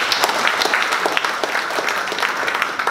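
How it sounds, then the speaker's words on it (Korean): Audience at a plastics forum giving a big round of applause, dense and loud steady clapping throughout. "우리 모두를 위해서 큰 박수 한번 보내주십시오."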